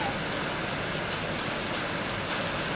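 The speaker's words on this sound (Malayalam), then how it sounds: "നല്ല മഴയില്ലേ" Heavy rain pours down in a steady, hissing patter, continuous and even throughout, with a faint engine hum underneath.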